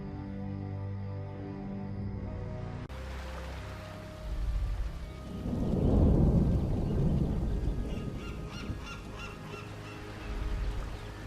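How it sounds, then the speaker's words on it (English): A thunderstorm at sea rages in a Warcraft III cutscene, with a deep rolling rumble that swells up mid-scene after a calm musical opening and then recedes into the stormy background. "I don't think our ships would have held out much longer in that storm."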